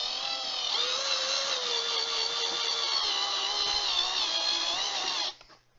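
A power drill bores steadily through a hole with a gradually larger bit, a continuous high whining motor tone holding for about five seconds before it suddenly stops.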